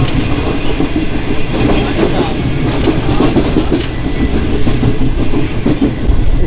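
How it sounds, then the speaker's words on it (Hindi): Karakoram Express rolling through a quiet station on the Karachi to Lahore route, a steady loud rumble with rhythmic clickety-clack of wheels over rail joints and rattling carriages throughout. "स्टेशन की खामोशी को चीरती हुई आगे बढ़ रही ट्रेन"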